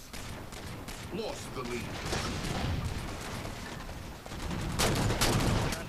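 Halo 4 multiplayer gunfire, dense rapid shots and bursts with a louder blast near the end, continuous under a player's brief talk.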